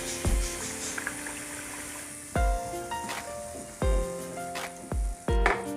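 Sprouted mung bean vadas sizzle steadily in hot oil, a soft, close crackle heard beneath louder bursts of plucked background music.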